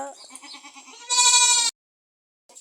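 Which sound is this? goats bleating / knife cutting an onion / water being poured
goats bleating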